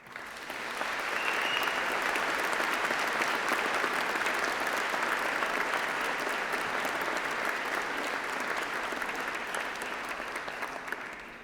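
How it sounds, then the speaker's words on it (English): At a UCLan graduation ceremony, a large audience claps in a sustained, even round of applause that swells in and holds steady before easing slightly at the end, sounding somewhat distant and without voices. "shall we have a round of applause for all those special people who've helped you get here today?"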